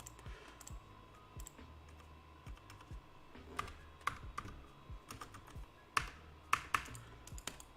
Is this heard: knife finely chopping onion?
no